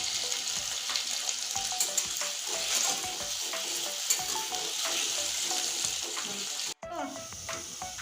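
Mixed vegetables and potatoes fry in oil with a constant close sizzle and occasional stirring clinks of a utensil against the pan. The sound cuts out briefly near the end.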